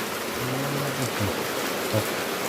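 Steady rain pours down outdoors, a dense continuous hiss throughout, while a voice briefly speaks over it.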